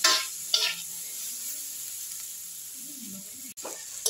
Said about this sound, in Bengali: সবজিটা আরও 2 মিনিট ভাজা ভাজা করলাম।